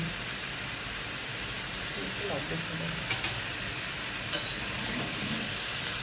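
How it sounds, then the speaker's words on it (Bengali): Chicken leg pieces with green chillies and salt fry on high flame, a steady loud sizzle and hiss with a few clattering stirs, and a voice speaks over it. "এগুলো সব আমি হাই ফ্লেমে ভেজে নিচ্ছি"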